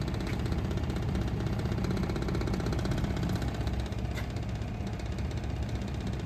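HVAC unit shaking slightly from a faulty blower wheel, giving a steady, continuous mechanical hum and rattle at constant loudness with no talk.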